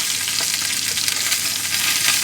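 Bacon, mushrooms and sausages fry in a pan during home batch cooking, giving a steady, close, dense sizzle and crackle that holds evenly throughout with no talking.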